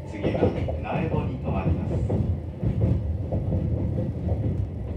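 A JR Hokkaido 735 series local electric train on the Hakodate Line rumbles steadily along the rails with a low, continuous drone, while an onboard announcement voice speaks over the rolling noise.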